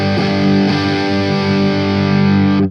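Distorted electric guitar played through a Kemper amp profile into a Celestion F12-X200 FRFR speaker with the Pure Cabinet setting left unchanged, a loud sustained chord ringing steadily for nearly three seconds, with a couple of fresh strums near the start.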